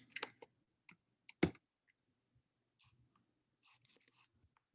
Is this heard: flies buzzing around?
no